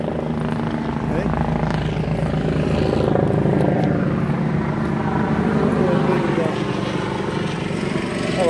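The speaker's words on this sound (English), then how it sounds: "Helicopter there. Right here in the background." A helicopter's steady rotor drone hums continuously in the background, fairly loud and constant throughout, with some faint voices underneath.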